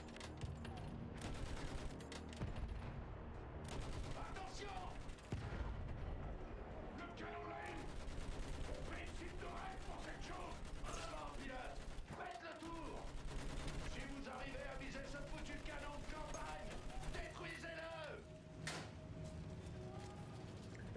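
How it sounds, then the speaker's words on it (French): Machine gun fire in the Battlefield 1 shooter game, rapid sustained bursts layered over a dense, busy battlefield din with explosions and background voices throughout. "je suis passé en mode mitrailleuse"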